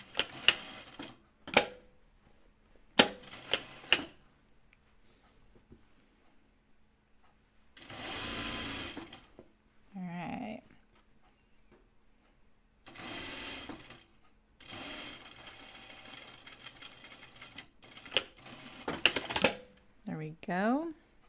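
A sewing machine stitches and reinforces the corner of an unlined Wiksten Unfolding Jacket in about seven short, close bursts separated by quiet pauses, with brief handling noises in between.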